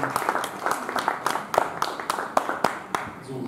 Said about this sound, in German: Und nochmal einen Applaus für Sie.